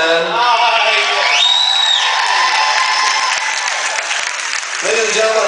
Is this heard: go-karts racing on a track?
no